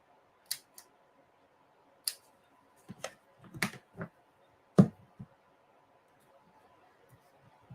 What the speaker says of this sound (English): Actually, I'm going to have to cut these. This is really tiny. Where are my snips?